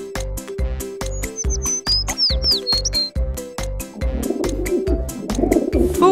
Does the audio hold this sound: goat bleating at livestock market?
no